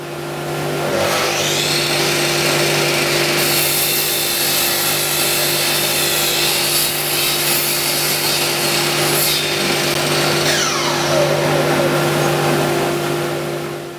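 Loud, sustained whine of a power saw ripping timber lengthwise, a steady motor drone with the blade note shifting as the cut progresses, running continuously for the whole stretch.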